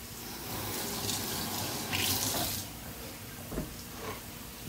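Water runs from a kitchen tap into the sink during cleanup while cooking, a steady soft hiss with a couple of brief splashes and clinks.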